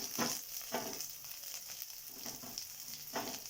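Vegetables with raw peanuts, capsicum, carrot and curry leaves fry in a pan with a steady, close sizzle, broken by periodic bursts of stirring and scraping, with no talking.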